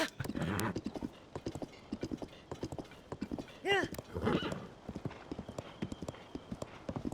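Hooves clip-clop in a steady gallop rhythm with a brief horse whinny partway through, from the video game Zelda: Tears of the Kingdom, mixed with game effects and background chatter.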